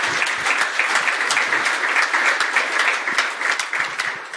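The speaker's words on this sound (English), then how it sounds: "Round of applause for a nice talk." Conference audience applauding after a talk on Bluetooth Low Energy hacking, a steady, fairly close wash of clapping hands that holds evenly and stays free of speech.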